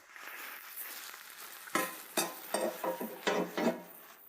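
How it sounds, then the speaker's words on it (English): Slotted spoon pressing potato rösti mixture down in a pan, giving a run of short scraping, clattering presses against the pan over a low sizzle, close up with no talking. "now I take a slotted spoon and press the mixture down a bit in the pan"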